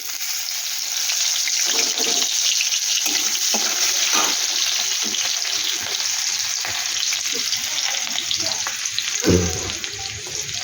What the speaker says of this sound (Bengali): ওই কড়াইতেই আমি একটু তেল দিয়ে দিছি আর একটু চটপটা করব